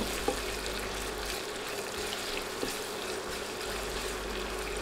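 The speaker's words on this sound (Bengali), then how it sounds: "এখন পেঁয়াজগুলো নেড়ে বেরেস্তার মতো করে ভেজে নিব।" Sliced onions fry in hot oil for halim, a soft, even sizzle running throughout with a couple of faint knocks from stirring and a low hum underneath.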